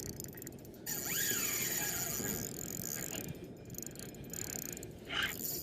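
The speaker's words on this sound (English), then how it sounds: "Taking quite a bit of line this one." A fishing reel's drag clicks and whirs steadily as a threadfin salmon on live bait strips line at night, the ratcheting sound continuous and close, with brief spoken words briefly over it.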